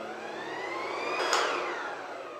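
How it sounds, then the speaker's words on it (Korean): Cooling fan of a Slack Ion 616 electric scooter spinning up after switch-on, a steady high whine that rises in pitch and peaks briefly before easing, alone with no talk. "팬 소리가 나죠?"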